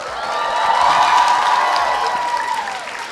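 Studio audience applauds and cheers at an interview event for the Golmaal comedy franchise, a dense, steady wash of clapping and crowd noise that swells and holds for a few seconds.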